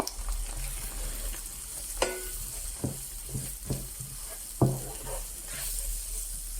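Garam masala, jeera, turmeric and chilli powders frying in hot oil for a Durban-style crab curry give a continuous close sizzle, punctuated by several soft stirring scrapes and knocks in the pan.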